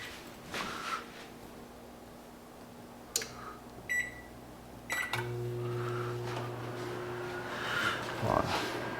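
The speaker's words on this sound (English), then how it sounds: "Now I gotta watch the microwave" A microwave oven runs with a low steady hum, with keypad beeps and a soft clatter nearby and a person speaking briefly.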